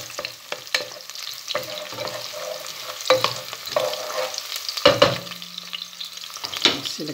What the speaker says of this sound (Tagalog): Sunod na natin yung bawang. Halo-haloin konti, halokayin konti.